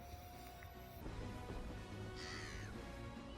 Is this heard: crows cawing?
yes